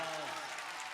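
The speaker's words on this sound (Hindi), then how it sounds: "तालियां बजाइए।" Audience at an All India Mushaira applauding, a brief burst of dense clapping that fades slightly, with a voice overlapping near the start.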